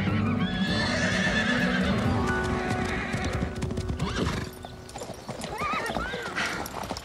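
A horse neighs and whinnies while hooves clip-clop in quick steady beats, close and loud at first and then easing back, on a paddock setting.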